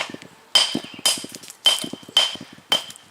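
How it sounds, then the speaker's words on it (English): A hammer taps stone for a retaining border wall in a steady rhythm, five sharp ringing strikes about half a second apart, each followed by a few lighter bounces. "Or you could use a smaller hammer."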